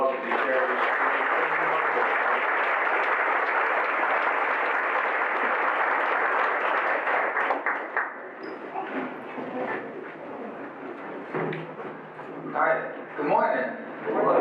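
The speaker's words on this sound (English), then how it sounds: "let's give him a nice round of applause" A crowd at a recovery breakfast event claps steadily for a speaker coming forward, the applause fading after about eight seconds as scattered claps and voices remain in the room.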